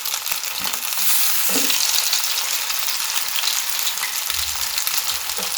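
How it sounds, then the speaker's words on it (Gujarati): Leftover rotli shallow-fries in oil in a nonstick pan until golden brown, a constant close sizzle with a few soft knocks and a low thud near the end, and no voices. "આપણે એને પલટાવી અને બંને સાઈડથી આપણે થોડી ગોલ્ડન બ્રાઉન જેવી થાય એવી શેલો ફ્રાય કરી લઈશું"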